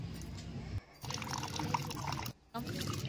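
Water splashing and trickling as something is washed with ice water outdoors, running liquid sounds broken by brief pauses, with people talking over it.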